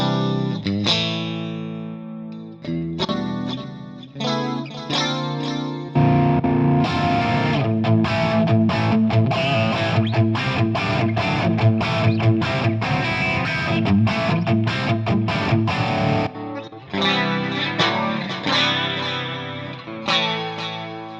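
Electric guitar through a Fractal FM3 clean channel with chorus and delay, playing chords and riffs with shimmering, echoing tails and a few brief pauses, with no talking.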